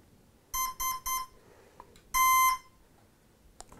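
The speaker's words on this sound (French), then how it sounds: "La petite musique, c'est le contrôleur qui fait ça en faisant vibrer le moteur à une fréquence audible." A drone's motor controller sings short electronic tones by vibrating the motor: three quick beeps, a pause, then one longer tone, each clear and fairly close in a quiet room.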